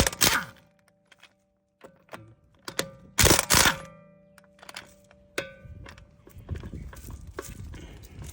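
An impact wrench fitted with a 13/16 socket loosening the wheel nuts on a 2016 Toyota Camry, heard as loud short rattling bursts among scattered clunks and handling knocks in a quiet garage.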